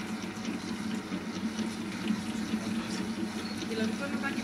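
Water from a glass pours into dough in a kneading machine for quick puff pastry, a low, steady splashing trickle under people talking.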